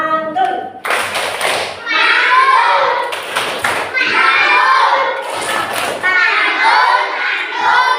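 A third-grade class of children claps and chants together in rhythm, with bursts of group clapping alternating with their voiced chant, close and lively.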